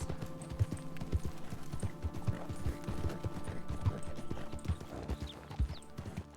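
Steady clip-clopping horse hooves in the video game RedM plod along at an even walking pace, soft and moderately close, with a faint whinny in the background.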